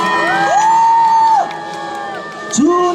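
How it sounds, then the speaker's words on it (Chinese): Fans at a temple stage concert in Ligang, Pingtung, scream and whoop in long, sustained high-pitched cheers, one swelling shout that fades, then another rising at the end. "给他尖叫声、欢呼声嘞"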